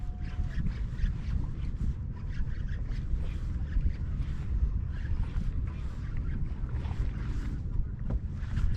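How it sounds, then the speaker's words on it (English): A fishing boat turns on open water, with steady broadband engine and wind rumble running continuously and evenly throughout. "Turning the boat."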